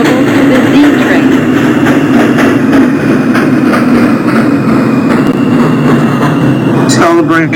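An R160 subway train on the Brooklyn-bound J local line in a train simulator game, a steady loud rolling rumble and motor drone throughout, with a brief rattling, clicking sound near the end.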